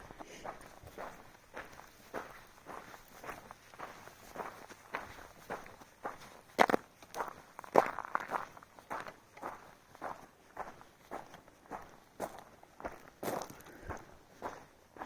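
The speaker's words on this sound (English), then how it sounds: "The only sound out here are my footsteps." Footsteps crunch along a desert hiking trail on the Pinyon Pine Loop, a steady walking rhythm of about two steps per second, close and crisp, with a few louder scuffs in an otherwise quiet setting.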